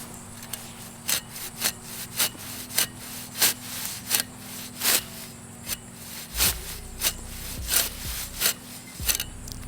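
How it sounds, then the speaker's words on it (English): A dethatching rake drags through a lawn overgrown with creeping charlie, giving a steady run of scratchy, raspy strokes at roughly even intervals, moderately close, with a faint low hum underneath and no talk. "So I have a dethatching rake right here, and we're gonna try this."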